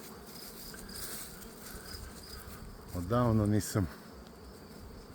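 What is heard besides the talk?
honeybees buzzing around hives in an apiary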